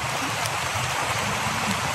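Steady, dense rain falling, a constant hiss of drops hitting surfaces with no pauses, fairly close and even throughout.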